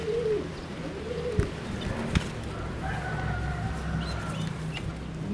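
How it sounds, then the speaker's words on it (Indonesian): A young Javanese sungut pigeon coos in soft, low, rolling phrases, close by, with a couple of sharp clicks and other faint bird calls in the background. "Ini sama-sama burung merpati Jawa Sungut"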